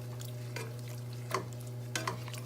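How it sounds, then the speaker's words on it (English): Seasonings being stirred into a garlic pasta sauce in a pan, a low simmer underneath with a few soft scraping strokes of the utensil. "now I'm just stirring all of these seasonings in here"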